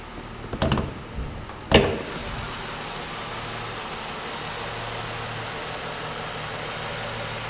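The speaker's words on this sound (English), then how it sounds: "Nice strong Mazda engine." A 2014 Mazda CX-9 with a 3.7 liter V6 idles steadily at close range after a couple of bangs like a hood being opened and dropped, its low hum continuous and even.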